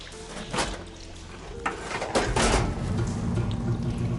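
In Horizon Forbidden West, machinery switches a water flow: a swelling gush and splash of water with a few clunking thuds builds into a sustained, fairly loud rushing flow.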